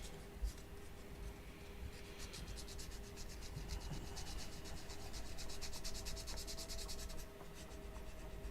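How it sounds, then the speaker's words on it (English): Sandpaper rubbed by hand over a surface while detailing a HMMWV, a steady close scratchy rasp in quick repeated strokes that grows denser toward the end, over a low constant hum. "There's my sandpaper."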